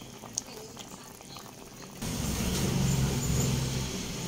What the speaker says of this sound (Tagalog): Lagay ko na yung fish.